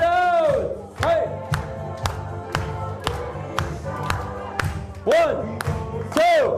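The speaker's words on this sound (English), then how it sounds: "All right, let's clap it out." A group at a stock market training seminar claps together in a steady rhythmic beat, punctuated by loud shouted cheers and whoops at the start and again near the end.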